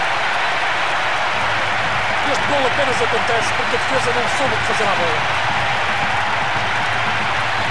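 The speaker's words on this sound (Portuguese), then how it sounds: "É um enorme aplauso dos adeptos que hoje escutam a ligação do estádio." A video-game stadium crowd in PES 2020 applauds after a goal in a Copa Libertadores match between Atlético Mineiro and Grêmio, a broad steady roar under continuous commentator speech.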